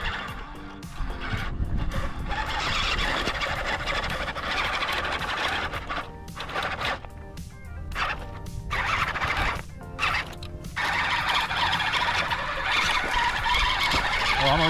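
An LDRC LD-P06 Unimog 1:12 scale RC truck drives at full throttle, its small motor whining steadily and loudly with brief dips and rattling bursts as it struggles along.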